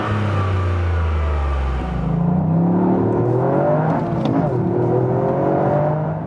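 A 2021 Toyota GR Yaris hot hatch accelerates hard, its engine revving up through rising pitch sweeps with loud, steady road and wind roar throughout and no talk.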